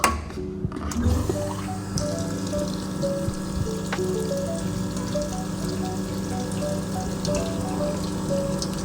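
An ECM Technika VI dual boiler espresso machine runs its rotary pump with water flowing, a steady low hum and trickling, splashing water with faint clinks, continuous and close after a brief start-up.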